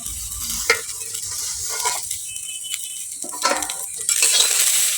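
Flattened rice is stirred into boiling water in a pot, giving a bubbling, sizzling hiss broken by a few sharp metallic scrapes and clinks of a spatula, close by and with no talking.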